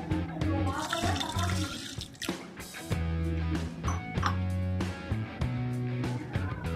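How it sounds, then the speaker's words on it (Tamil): Water splashes and pours steadily into a cooking pot of beetroot rice, with a brief gurgle, over a background of low droning music. "தண்ணி பத்தலைன்னா இன்னும் கொஞ்சம் அதிகம் ஊற்றிக்கோங்க."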